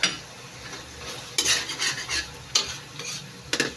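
Kangkong and tofu adobo being stirred in a pan, with a steady background sizzle and several sharp utensil scrapes and clinks against the pan at irregular intervals, close and fairly loud, no voices.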